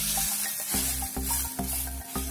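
Rice-flour pitha fries in a pan over lowered heat, with a quiet sizzle and faint crackle running beneath a steady tonal hum that cuts in and out rhythmically.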